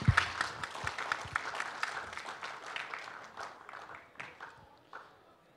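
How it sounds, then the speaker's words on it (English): An audience at a developer conference's elevator pitch competition applauds a presenter, with scattered clapping that starts strong and thins out to a few lingering claps by the end. "round of applause for William Coven"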